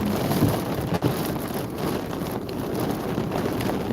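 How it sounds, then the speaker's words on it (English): Storm winds from a gust front ahead of a thunderstorm in central West Texas roar steadily outside, a dense broadband rush buffeting the microphone with brief dips. "When you can hear the winds blowing."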